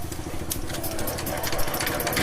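A China CD motorcycle engine runs after a cylinder head repair, a close, steady idling rumble with fast even firing pulses and no talk.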